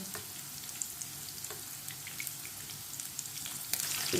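Stuffed bitter gourds (bharwa karela) fry in a pan with a steady, close sizzle and crackle, scattered small pops throughout and a slightly louder burst near the end.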